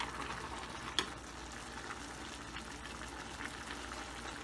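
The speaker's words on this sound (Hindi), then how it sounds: "बिल्कुल हल्के हाथ से चलाएंगे" Deghi zarda, a sweet rice, is gently stirred in a pot, giving a soft steady bubbling and light scraping with one brief clink near the start; no one speaks.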